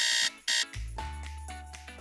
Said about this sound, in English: the alarm clock just went off.